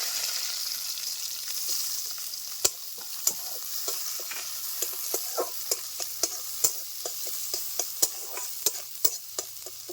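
Chopped onion with bay leaf fries in oil in a pan for a Bengali eel fish curry, a steady soft sizzle broken by repeated sharp scrapes and taps of a spatula stirring, no voices.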